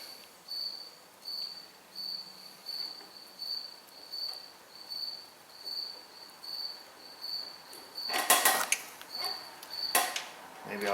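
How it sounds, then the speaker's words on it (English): A single cricket chirps in a steady, regular pulse about every second, close and clear, until bright metallic clanks and rattles briefly break in near the end. "I just hope one day he found a girlfriend and quit chirping"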